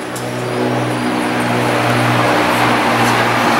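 A 14-metre double-decker coach, fleet number 14302, pulls into São Paulo's Tietê bus terminal from Volta Redonda, its engine droning loud and near with a steady harmonic hum that builds slightly, no voices.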